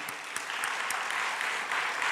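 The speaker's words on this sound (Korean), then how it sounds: "은혜 주신 하나님께 영광의 박수, 영광의 박수." A church congregation claps together in sustained applause during a worship service, dense overlapping hand claps filling the room at a steady moderate level, with no voices heard.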